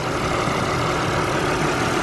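An Audi A4 on a $500 Copart rebuild idles while still cold, a steady low engine hum with broadband noise, close and continuous with no speech.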